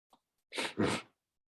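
A single sneeze, a short sharp intake followed by a forceful two-part burst, close and isolated in an otherwise quiet room.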